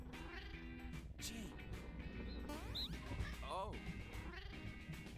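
Cat meows from the video game No More Heroes 2, several short rising and falling cries over busy game music and effects, with a person briefly speaking.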